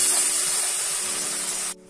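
Masala of tomato, green chili and ginger paste frying in a pan for a Bengali-style prawn malai curry, giving a steady, bright hiss up close that cuts off abruptly after under two seconds.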